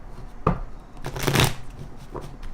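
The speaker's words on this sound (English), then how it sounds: "One more shuffle." A deck of tarot cards is shuffled by hand, with a sharp tap, then a loud riffling burst in the middle and a softer snap near the end.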